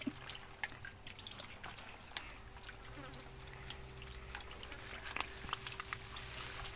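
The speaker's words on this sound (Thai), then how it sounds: "เดี๋ยวสิเปิดน้ำใส่บ่อปลาเข็งแล้วบัน กำลังเปิดน้ำใส่" Faint trickling and dripping of water running into a concrete fish pond, a steady quiet wash with scattered splashy drips outdoors.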